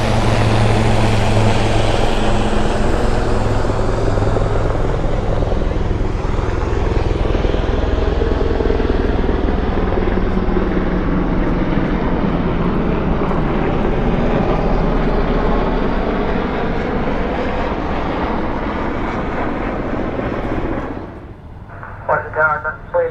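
Marine One lifts off at a military base in Washington, D.C. with a loud, sustained rotor and engine roar that continues without a break, then drops off sharply at the very end.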